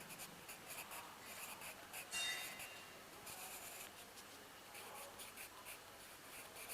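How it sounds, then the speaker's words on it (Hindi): A pen scratches on paper in soft, continuous strokes with brief pauses, close but quiet, while a Hindi application letter is written out; no one talks. "तो यहाँ एक लाइन लिख देंगे धन्यवाद सहित।"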